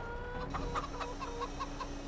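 Chickens in the farming game Farming Simulator 22 cluck in a quick run of short, evenly spaced clucks, close and clear over a faint steady hum.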